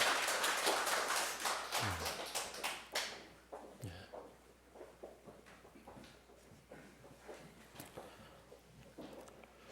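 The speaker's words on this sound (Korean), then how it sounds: "우리 박수로 하나님께 영광 돌리겠습니다." Church congregation applauding together, a burst of clapping in the first few seconds that thins into scattered claps and taps, moderately close in a reverberant hall.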